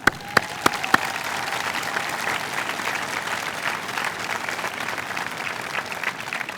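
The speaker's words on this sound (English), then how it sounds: "let's give a round of applause for that one" Crowd at a high school graduation ceremony breaking into sustained applause, opening with a few sharp individual claps before swelling into a full, even roar of many hands that carries through to the end.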